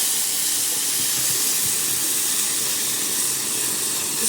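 Water poured onto golden toasted vermicelli in a hot pot raises a loud, steady hiss of steam and sizzle that runs unbroken throughout.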